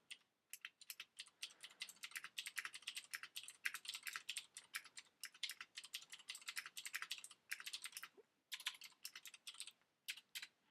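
Rapid bursts of typing on a computer keyboard while writing code, close and clear, with irregular clusters of keystrokes and short pauses between them, no speech.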